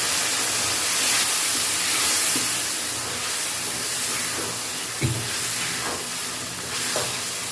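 Mustard paste thinned with water hits a hot pan of frying potatoes, giving a steady, close sizzling hiss throughout with a few faint stirring scrapes and no talk.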